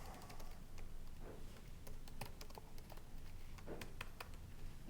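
Quiet, irregular clicking of keys on a computer keyboard as a customer review is typed, soft taps scattered over low background hiss.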